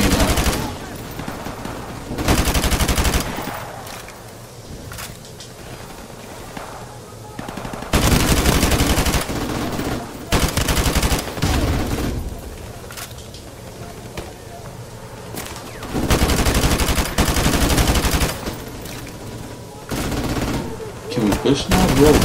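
Gunfire in Call of Duty Modern Warfare Remastered comes in loud, sustained automatic bursts lasting a few seconds each, separated by quieter stretches with a voice talking over the game.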